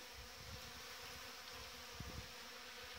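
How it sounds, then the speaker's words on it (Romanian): Honeybees in March gather at a water feeder and on leftover wine pomace, producing a steady, dense insect hum that fills the scene, with no talking. "o parte din albine stau la apă și o parte stau pe vin și sug această boștină ce a rămas"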